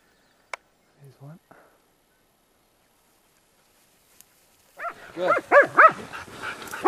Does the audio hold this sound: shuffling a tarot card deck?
no